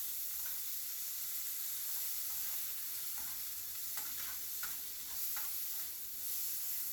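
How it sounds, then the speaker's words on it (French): Onions sizzle in a pan with marinade for a shrimp dish, a steady close hiss broken by light stirring scrapes near the end, with no voices. "vous devez faire revenir les oignons environ 1 minute"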